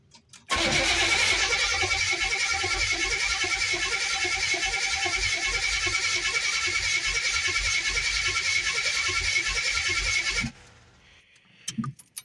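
Old car engine cranking on its first spring startup: a loud, close starter churn with an even rhythmic pulse that runs steadily for about ten seconds, then cuts off abruptly into quiet.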